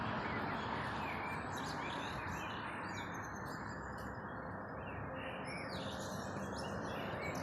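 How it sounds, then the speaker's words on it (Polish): Birds sing at dawn near Rakowicki Cemetery in Kraków, chirping faintly in the distance over a steady low rumble of traffic. "jak o świcie pięknie ptaszki tutaj koło cmentarza Rakowickiego śpiewają"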